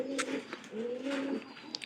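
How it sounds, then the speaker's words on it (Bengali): A pair of pigeons gives two soft, rolling coos close by, each a low drawn-out burr, with no talk. "এখানে দুইটা কবুতর আছে"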